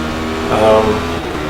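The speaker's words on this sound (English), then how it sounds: "these two cars went by in the start" Radical race car engines at Mosport in the iRacing video game roar past with a brief rising and falling whoosh, a car sweeping by close under a steady motor drone, with talk faintly underneath.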